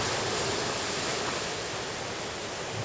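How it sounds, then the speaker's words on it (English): Large ocean swells surge against a marina entrance, a steady broadband roar of crashing surf and rushing outflowing water, loud and continuous with no break. "it keeps getting hit by these fairly large swells that are coming in"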